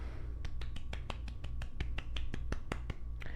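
About fifteen sharp, close hand claps come in a fast, steady run over a low rumbling background hum.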